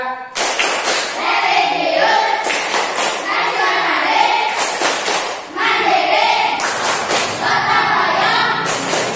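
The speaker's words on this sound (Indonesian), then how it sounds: "Kita buktikan kalau kalian masih semangat dengan tepuk PPK." A school class performs a rhythmic PPK clapping routine, sharp bursts of group clapping and thumps in repeated patterns mixed with children chanting along throughout.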